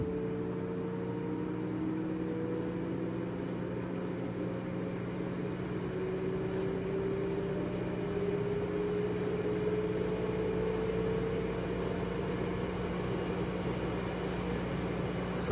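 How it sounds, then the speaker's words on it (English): An LG washing machine with a TE error code ramps up to its fastest spin cycle, about 1200 RPM: a steady, close, continuous drum whir with a motor whine that climbs slowly in pitch, no voices. "Goes to the fastest spin cycle."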